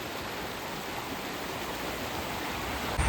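A rain-swollen river stream rushes down from above near Pallikkathodu in Kottayam, a steady, dense broadband water roar that stays loud and unbroken throughout, with no voices.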